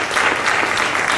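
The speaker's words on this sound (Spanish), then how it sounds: "Que tal un aplauso para el Señor." A church congregation claps together in a brief, dense burst of applause, fairly loud and steady, with no voices standing out.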